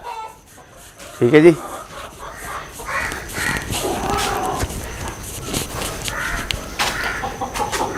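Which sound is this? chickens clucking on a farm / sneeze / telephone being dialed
chickens clucking on a farm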